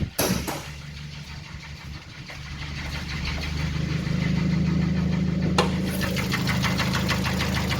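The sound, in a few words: car engine running with the hood open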